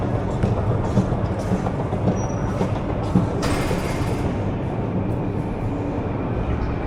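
A Moscow Metro train running underground, a steady loud rolling rumble with clattering and rattling, plus a brief brighter screech midway.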